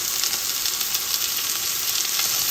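Bagoong shrimp paste frying in a pan, a loud, steady, close sizzle with crackling, hissing oil and no voices.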